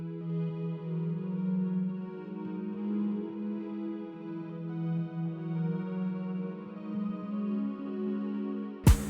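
A Darwin pad preset from the Expand plugin, layered with an Afrobeat guitar part and playing the same notes, sustains a soft, steady chord bed that slowly shifts, alone, ending in a sharp click.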